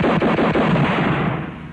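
A single loud gunshot blast rings out, a close, sharp report followed by a rolling, decaying echo.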